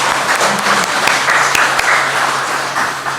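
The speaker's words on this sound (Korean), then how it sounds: "우리 다시 한 번 더 하나님 앞에 감사하며 찬양 박수하겠습니다" A church congregation claps in praise during an Easter service, a sustained wash of many hands with a steady, dense texture filling the room, no voices standing out.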